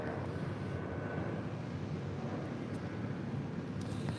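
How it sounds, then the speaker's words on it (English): A DHL Polar Air Cargo Boeing 747-8 jet arriving from Anchorage at LAX, its engines a steady, broad roar that holds evenly throughout with no voices over it. "DHL Polar Air Cargo Flight 968 coming up from Anchorage, 747-8."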